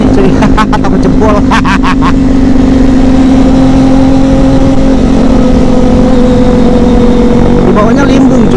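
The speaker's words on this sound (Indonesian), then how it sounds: "risih sama motor yang RPM tinggi kayak gini cuy" A Kawasaki ZX25RR motorcycle engine holds a loud, sustained high-RPM drone with a steady tone throughout, with brief bursts of voices or other sharp noise early on and a slight pitch rise near the end.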